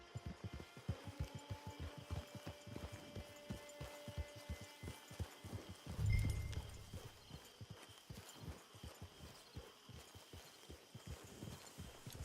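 Horse hooves clip-clop at a steady walking rhythm in the video game Red Dead Online, fairly quiet and close, with a low hum beneath and a brief thump partway through.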